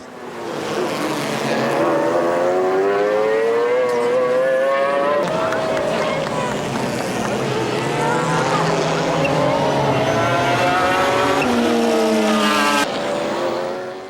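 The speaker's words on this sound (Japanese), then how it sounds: "8周目ついにトップの座を奪ったのは FET スポーツスープラのトム・クリステンセン" Toyota Supra and McLaren GT race cars competing in the 1996 JGTC season roar past at full throttle, engines rising and falling through gear changes in a loud, continuous high-revving drone.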